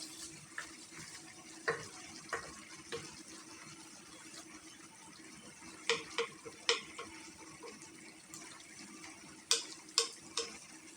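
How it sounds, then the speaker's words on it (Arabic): Onions frying in a pan for a rabbit tagine with carrots, mushrooms and olives give a soft, steady sizzle. Scattered sharp pops and ticks break through, with no talking. "البصل تاعنا راهو تقلى"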